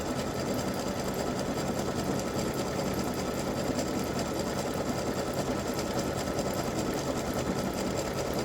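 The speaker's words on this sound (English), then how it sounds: "My machine says it takes 25 minutes to stitch this out." An embroidery machine runs steadily, stitching a Christmas bow design directly onto a T-shirt side seam, with a continuous fast mechanical whir and rapid needle clatter at close range throughout, no talking.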